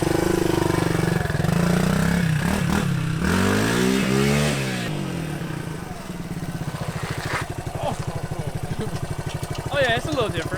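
A Suzuki DR200 motorcycle engine revs and pulls away loudly, its pitch rising and falling through gear changes, then drops into a lower, steadier thrum while riding off down the road, with someone talking over it.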